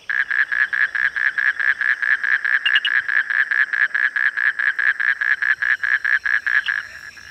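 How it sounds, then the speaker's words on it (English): A frog in a cloud forest calls in a fast, steady series of about thirty rhythmic pulsing notes, loud and close, with a faint insect hum behind it. "And each frog's got a unique call."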